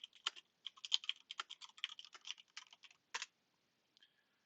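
Bursts of keystrokes on a computer keyboard, quick irregular clicks close and clear, then a short pause, one final cluster of taps and a faint last click; no voices.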